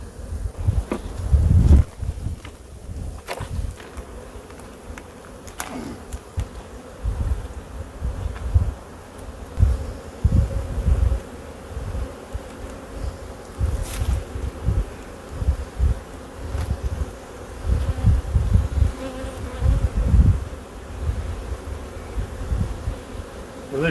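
Honeybees buzz around an open hive as a colony is worked for honey production, a close, continuous droning hum that swells and fades, with occasional louder passes near the microphone and light handling knocks.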